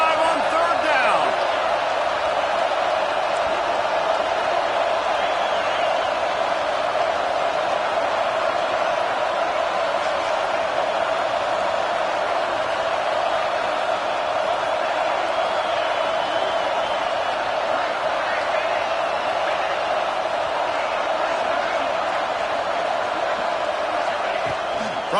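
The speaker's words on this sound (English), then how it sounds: "The Buckeye crowd alive on third down." A stadium crowd at an Ohio State Buckeyes football game roars steadily on a third down, a dense, continuous wall of cheering and noise under a broadcast commentator's voice.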